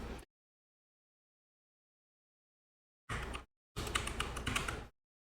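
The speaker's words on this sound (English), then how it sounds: "I'm just going to go ahead and type in media." Typing on a computer keyboard to enter a drive name while debugging an NVMe drive, with a short burst of clicking keys followed by a longer, denser run of rapid keystrokes, close and fairly loud.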